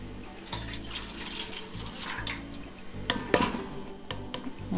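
Warm water runs from a faucet into a bowl for pizza dough, a steady close splashing pour with a brighter burst of splashes near the end and no talk.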